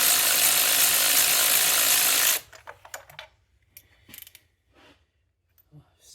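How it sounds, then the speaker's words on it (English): A cordless ratchet works on the engine of a 2005 Ford Freestyle with a misfire: a loud, steady motorized whir runs for about two seconds, then gives way to scattered metallic clicks and clanks close by. "Handy dandy cordless ratchet"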